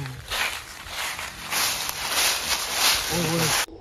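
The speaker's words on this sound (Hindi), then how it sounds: "ये देखो भाई इस चीज की आवाजें, ये चल रहे हैं ना पत्तों की।" Footsteps crunch and rustle over dry leaves at a haunted house, a steady close shuffle of crackling leaf litter while people talk over it.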